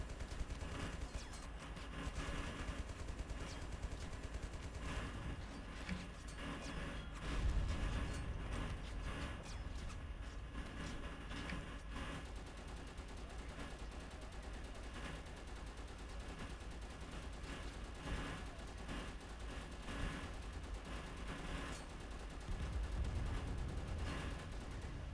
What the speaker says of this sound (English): So that's obviously one of the machine guns